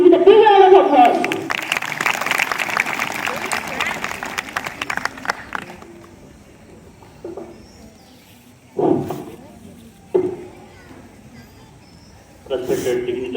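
An audience at a school Independence Day celebration bursts into applause for a welcome speech, a dense clatter of clapping for several seconds that then fades, followed by someone speaking into a microphone.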